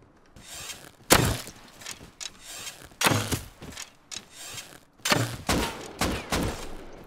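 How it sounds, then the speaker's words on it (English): Rapid bursts of AK assault rifle fire in the survival game Rust around an abandoned wooden base, sharp cracks in several short clusters at moderate distance with no talking. "Oh, I'm dead from the AK."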